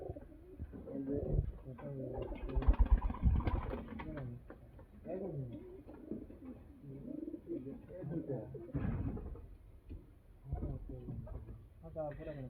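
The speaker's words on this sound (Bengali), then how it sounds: "ছেলের কবুতর আছে, ওগুলো ল্যাংচা কবুতর" Giribaj high-flying pigeons coo in soft, rolling bursts close by, while people talk over and between the calls.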